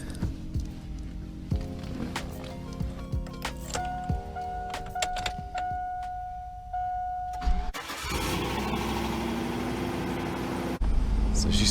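A 2002 GMC Yukon engine cranks, catches and starts up, then settles into a steady idle on a brisk morning, loud and close with some mechanical clicks and rattles beforehand.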